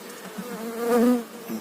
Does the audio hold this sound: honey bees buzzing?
yes